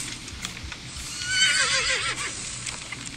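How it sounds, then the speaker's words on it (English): A horse neighs in the video game Dead by Daylight, a single loud whinny that rises and wavers for about a second over steady game ambience and faint background noise. "I found a horse with a third eye in it."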